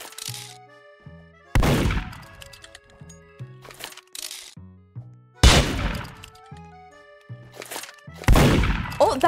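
Gunshots in the Roblox game Murder Mystery 2, four sharp cracks that ring out and decay, spaced irregularly between quieter clicks and game tones.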